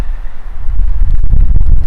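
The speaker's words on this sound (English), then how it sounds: "It's nice and windy today." Low, blustery wind rumble buffeting the microphone, growing stronger and steadier in the second half, with no voices.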